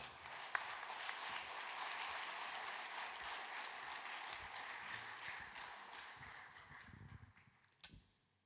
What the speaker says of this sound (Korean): 힘찬 위로의 박수로 맞이해 주시기 바랍니다